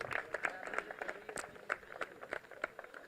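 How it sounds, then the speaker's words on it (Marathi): Audience at an outdoor prize ceremony clapping, a light scattered patter of hands with individual claps standing out, moderately faint and uneven. "एकदा जोरदार टाळ्या जाऊ द्या नितीन पवार सरांसाठी देखील"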